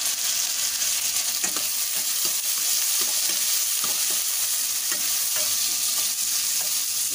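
Tomatoes with salt are sautéed in a pan, producing a continuous close frying hiss broken by repeated spatula strokes and scrapes at an even pace.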